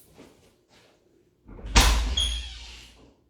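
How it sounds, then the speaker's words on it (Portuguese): A house door is opened with a soft handle rattle and then a louder scraping, creaking swing, after faint quiet sounds, no talking. "eu vou ter que abrir a porta"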